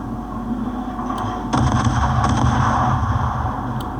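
Heavy naval gunfire in the video game World of Warships booms in a continuous rumbling barrage, with sharper blasts kicking in midway, sounding like big guns firing amid battle noise.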